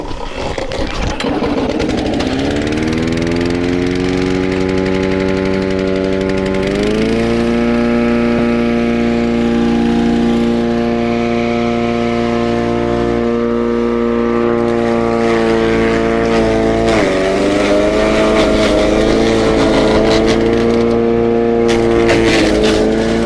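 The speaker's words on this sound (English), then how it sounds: "reasonably thick stuff up to about 50 mil thick can go through the shredder there" A petrol garden shredder woodchipper runs loud and steady for the whole stretch, its engine holding a strong harmonic drone that sags and climbs with load as bluegum branches up to about 50 mm thick are fed through.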